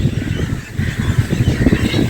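Birds call steadily in the background, low honking and squawking notes like geese or fowl, blended into a dense outdoor din.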